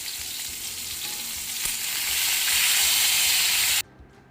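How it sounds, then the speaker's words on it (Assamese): Fish pieces fry in hot oil in a kadai, giving a loud, close, steady sizzle that swells in the middle and then cuts off abruptly, leaving near silence. "মাছখিনি এনেদৰে ভাজি লৈছো"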